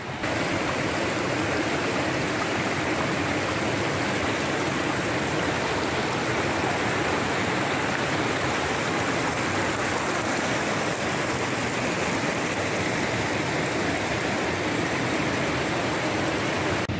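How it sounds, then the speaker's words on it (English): Continuous rushing of Toxaway Creek, broad and steady water noise close by, with no voices or other sounds. "Toxaway Creek."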